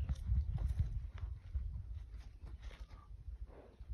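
Horse's hooves clopping and shuffling on the ground as the animal moves about, irregular soft thuds over a low rumble, close by and fairly quiet.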